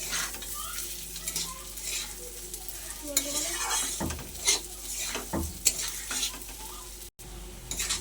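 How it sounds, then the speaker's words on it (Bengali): Rice grains fry in a pan with ginger paste, green chilli paste and raisins for basanti pulao, a continuous sizzle with occasional stirring scrapes and clinks, close and without talk. "চালটা আমি এবারে ভালো করে ভাজা ভাজা করে নেব।"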